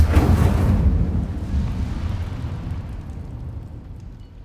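A fiery blast from the Incendio fire spell in Hogwarts Legacy bursts loud and close at the start, then rolls into a rumbling roar that slowly fades over several seconds, with no voices.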